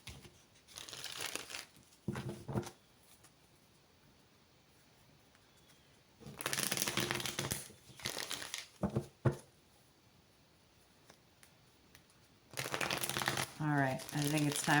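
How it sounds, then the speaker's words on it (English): Tarot cards shuffled in bursts of riffling, crinkly papery rustle, with quiet gaps between the bouts; someone speaks softly near the start. "you guys saw all the shuffling that just occurred"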